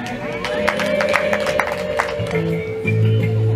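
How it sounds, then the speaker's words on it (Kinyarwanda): Wedding guests break into a steady burst of clapping and crowd noise, with a sustained high ululating tone rising over the applause, loud and close. "reka musabire amashyi ntabwo ari amashyi gusa ndagira ngo ababyeyi bamuhe impundu bugira gatatu"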